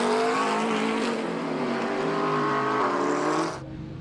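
GT Cup race cars at Donington Park dive toward the pit lane, a loud continuous engine roar with shifting tones from several cars close by, cutting off abruptly near the end to a quieter background.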